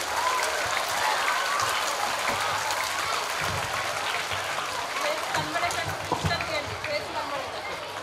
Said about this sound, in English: A big hand clap for the tree.